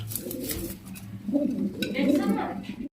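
Pigeons at a farm in Gazipur coo in low, throaty repeated calls close by, partly under someone talking.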